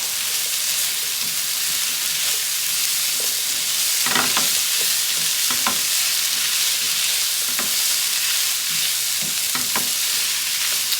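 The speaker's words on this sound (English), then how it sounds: "I'm going to add my green onion in here. Okay, mix this up." Green onion and garlic sizzle in a frying pan as a crustless potato quiche filling is stirred, with a steady loud hiss and occasional scraping strokes of the spoon, and no talking.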